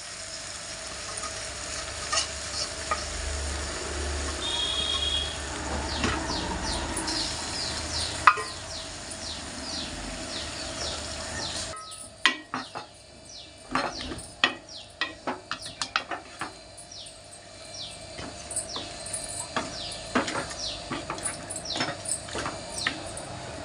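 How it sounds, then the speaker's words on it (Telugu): Fish pieces frying in a pan for a mango fish curry make a steady sizzle, followed by a run of sharp close clinks and scrapes from the pan and utensils, with no speech. "చేపలు వేసేస్తున్నాను."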